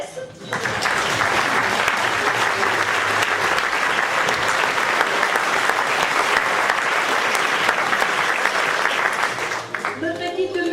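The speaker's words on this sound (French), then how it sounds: "nous allons applaudir également notre unique souffleuse, Agnès." An audience applauds after an amateur theatre troupe's performance, with loud, dense, sustained clapping close by for about ten seconds before it tapers off.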